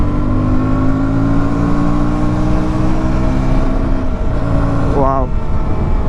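A KTM Duke 160 motorcycle accelerates hard to overtake on a highway. Its engine drone rises steadily in pitch, wind roar underneath, then a short quick rev near the end, loud and close throughout.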